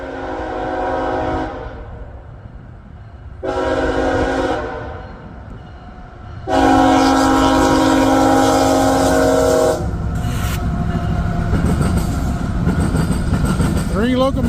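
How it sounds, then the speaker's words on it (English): A CSX freight train hauled by BNSF locomotives passes at night in high winds and rain, sounding several loud horn blasts before the steady rumble and clatter of the cars carries on close by. "here comes that train that was coming east or westbound on track 1"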